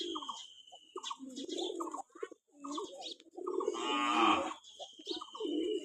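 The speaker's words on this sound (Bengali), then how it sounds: "দেখেন কত সুন্দর ডাকে, প্রত্যেকটা পায়রা কবুতর খুব সুন্দর ডাকে।" Several pigeons on a pigeon farm coo close by in repeated throaty, rolling calls that overlap in a loose rhythm, with short gaps between bursts.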